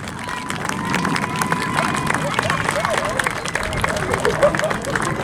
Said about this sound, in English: give the synchro pair a massive round of applause